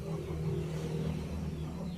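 A car rolls in close by with a steady low engine rumble and hum, heard at a rural home in Thailand's northeast.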